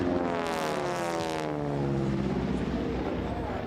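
Racing airplanes at the 2025 National Championship Air Races in Roswell, New Mexico, drone steadily past near the south end of the course, a loud continuous engine roar with shifting pitch that slides downward as they pass.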